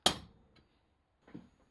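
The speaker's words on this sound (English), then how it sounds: "Now I am center punching all those little serrations" A loud, sharp metallic strike of a hammer on a center punch marking metal knife serrations, followed by a faint tap and then a softer, duller knock a second later.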